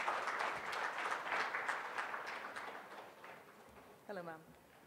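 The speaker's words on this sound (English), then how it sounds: "Can we have a round of applause one more time," Conference audience applause: a broad wash of clapping that fades over a few seconds, then a voice speaks briefly at the end.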